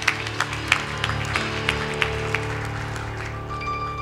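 Audience at a literature festival panel discussion giving a round of applause, scattered moderate clapping over a steady hum, thinning out toward the end.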